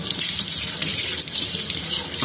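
Tap water runs steadily into a sink while fresh sea prawns are washed, a continuous splashing hiss with slight fluctuations as the prawns are rinsed under the stream.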